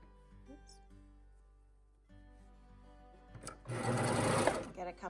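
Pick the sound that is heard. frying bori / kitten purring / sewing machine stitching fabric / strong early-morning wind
sewing machine stitching fabric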